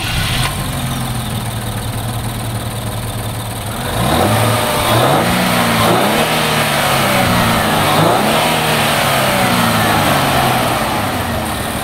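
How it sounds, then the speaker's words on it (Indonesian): A 2022 Nissan Fairlady Z with a 3.0-litre twin-turbo V6 is started after a few seconds of quiet. The engine catches with a loud burst, revs briefly, then settles into a strong, steady idle heard up close. "Engine starter di bagian tengah sini. Yuk kita start up dulu."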